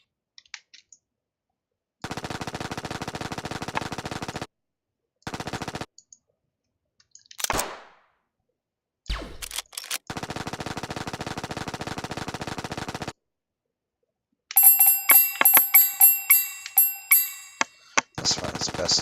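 Bursts of automatic video-game gunfire shooting at an enemy come in several long sustained volleys separated by silences, ending in a rapid string of louder individual shots.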